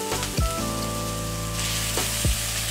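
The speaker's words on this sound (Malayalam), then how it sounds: "ഇതിലേക്ക് നമുക്ക് ഇനി തക്കാളി ഇട്ട് കൊടുക്കാം" Chopped tomato hits a pan of frying onion masala, bursting into a loud steady sizzle with a few clunks and scrapes from the pan, close up and without talk.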